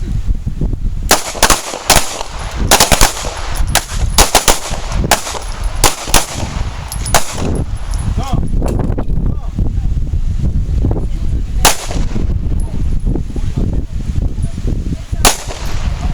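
Pistol shots ring out on a shooting range during basic pistol training: a loud series of sharp, close cracks in irregular bursts over wind noise, with voices talking between volleys.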